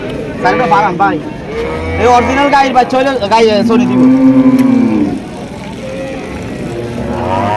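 Holstein Friesian cows lowing at a busy cattle market in Cumilla, with one long, loud moo standing out among the animals while people talk nearby.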